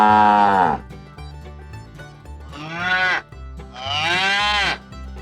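Domestic cows low in three long, drawn-out moos, each swelling loud and close before fading, with short quiet gaps between them and no talking.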